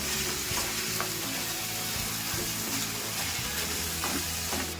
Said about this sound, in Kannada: ಇವಾಗ ಇದನ್ನೆಲ್ಲ ಒಂದ್ಸರಿ ಮಿಕ್ಸ್ ಮಾಡ್ಕೊಳ್ಳೋಣ ಒಗ್ಗರಣೆ ಜೊತೆಲಿ